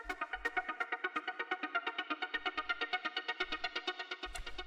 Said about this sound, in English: The next sound we have here is this ARP